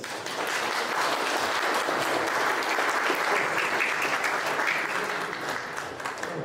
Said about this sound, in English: let's give Attorney General Winter a round of applause